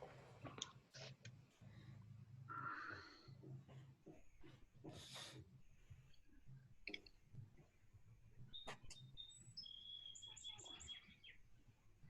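Birds chirping and calling outdoors with quiet clicking, several short tweets scattered across the span, faint and distant against a low background hum.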